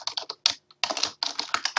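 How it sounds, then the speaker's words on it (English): Fast, loud typing on a computer keyboard at close range while writing Python code, with dense clattering bursts of keystrokes broken by short pauses. "Sorry, I type really loudly."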